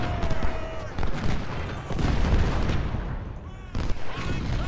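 Artillery and rifle fire in the Civil War strategy game Ultimate General at the 2nd Bull Run battle, dense overlapping booms and volleys forming a loud continuous barrage with a spoken voice over it.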